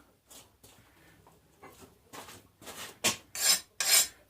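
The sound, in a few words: file scraping hardened blade and spine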